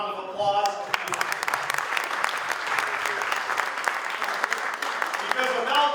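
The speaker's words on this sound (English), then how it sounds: "Let's give him a round of applause." At a Michigan Albanian community rally for a congressional candidate, an audience breaks into sustained, dense clapping that continues throughout, with voices speaking briefly at the start and end.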